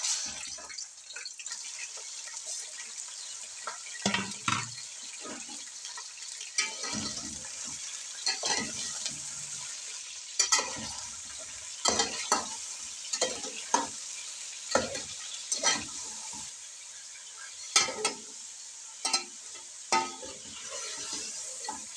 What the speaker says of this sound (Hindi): कुकिंग ऑयल जो है वो गर्म हो चुका है। मैं अब इसमें चिकन डालता हूँ।